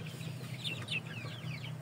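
Backyard chickens cluck in short repeated calls over a steady low hum, fairly close, with no voices.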